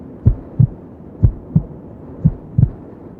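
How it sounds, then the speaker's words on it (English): Six deep, muffled heartbeat thuds sound close and alone, spaced in a steady pulse with a slight double beat at the end. "That's the sound of a heartbeat."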